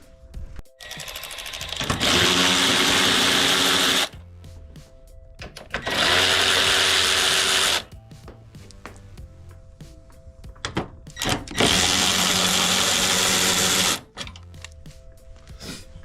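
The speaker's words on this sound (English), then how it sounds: "And then we'll need to take this bolt out down here." A power tool whirs in three loud, sustained bursts of about two seconds each while backing a headlight bolt out of a Toyota Corolla, with quieter pauses between the runs.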